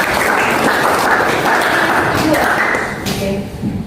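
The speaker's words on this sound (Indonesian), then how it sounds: "beri tepuk tangan untuk Arsya." A classroom of students claps for a classmate during a Quran recitation (tahsin) lesson, a dense, steady patter of hand claps that fades slightly toward the end, with young voices talking over it.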